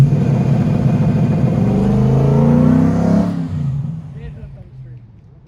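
A 2012 Ford F-150 fitted with launch control accelerates hard on the street in front of a shop, a loud rising engine roar that pulls away and fades into the distance.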